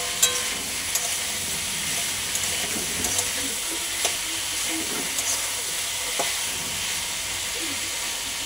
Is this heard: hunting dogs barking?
no